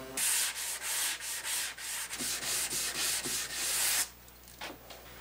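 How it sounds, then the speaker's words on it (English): A run of quick back-and-forth strokes sands wooden French cleats ahead of assembling them for a wall installation, loud and close-up, easing off to a quieter rub near the end. "I gave everything a quick sand down"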